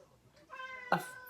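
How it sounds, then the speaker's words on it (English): A cat meows once in the background, a short faint mew rising briefly out of a quiet room with no talk. "that's the cat in the background"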